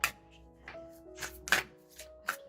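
Oracle cards are shuffled for a reading, giving a few soft, close riffling and slapping bursts at irregular intervals over a faint background hum.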